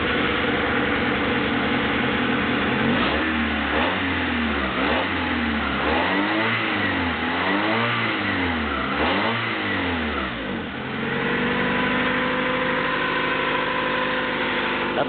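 A Honda F22 VTEC engine in a high-mileage, rebuilt Accord cranks and fires on a cold start, the starter's rhythmic churning giving way to a loud, steady idle close to the microphone.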